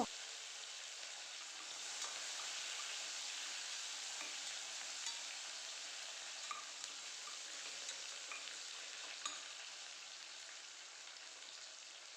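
Onions fry in hot oil with mustard seeds and cumin, making a soft, continuous sizzle with scattered small pops and crackles, fairly faint and without voices.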